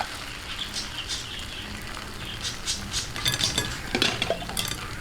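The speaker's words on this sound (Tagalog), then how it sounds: "Okay, haluin lang po natin." Bihon rice noodles being stirred in a pan for pansit with tinapa, utensils scraping and clinking against the metal in irregular bursts, growing busier toward the end, with no voices.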